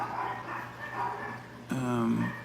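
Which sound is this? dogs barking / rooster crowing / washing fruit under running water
dogs barking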